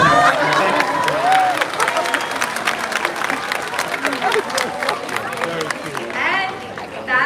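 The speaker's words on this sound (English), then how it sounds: "How about a round of applause?" A theme-park bird show audience applauds and cheers after a crow lands in a hand, with loud, sustained clapping and crowd noise that holds for several seconds before slowly thinning.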